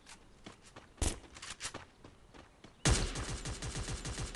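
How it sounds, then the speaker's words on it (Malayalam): Gunfire in the Free Fire video game: a couple of isolated shots and steps, then a sustained rapid automatic burst of evenly spaced, punchy reports that carries on to the end, fairly close and loud. "ഒന്ന് വെടി വെച്ച് നോക്കട്ടെ."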